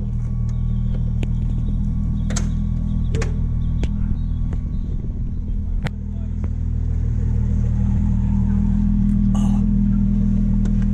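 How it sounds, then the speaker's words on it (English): Idling engine of a new Ford GT sports car heard from inside the cabin, a steady low rumble that holds throughout, with people talking over it. "We are in a Ford GT, y'all."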